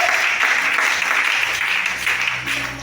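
A church congregation at a Sunday service breaks into loud, sustained applause and cheering, a dense continuous wash of clapping with some voices mixed in.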